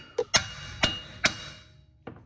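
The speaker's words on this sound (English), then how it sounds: "then hit it with your hammer" Four sharp metallic hammer strikes on an axle nut ring out at a steady pace, followed by a lighter tap, close and clear, during front hub bearing replacement on a 2010 Town and Country.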